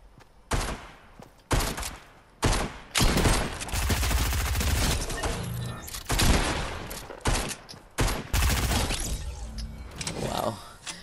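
SCAR assault rifle fire in the Fortnite video game rattles in repeated loud bursts with short gaps between them, close and harsh over a continuous game din, while a voice speaks at times.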